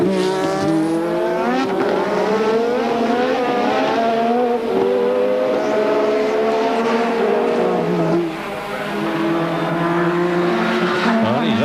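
Renault-powered 1986 Ligier and Lotus Formula One cars scream past during Australian Grand Prix practice, high-revving turbo engines wailing and shifting pitch continuously, loud and close, with a commentator talking over them.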